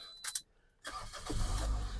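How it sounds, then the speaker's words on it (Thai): A 2008 Toyota Altis 1.8E starts on the first try: a short cranking burst, then the engine catching and settling into a steady, close, rising idle rumble. "สตาร์ททีเดียวติดนะครับผม"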